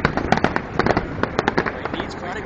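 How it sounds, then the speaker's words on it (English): Fireworks burst over the riverside in Windsor, Ontario, a rapid irregular series of pops and crackles at middle distance while people talk nearby. "You guys are missing the fireworks."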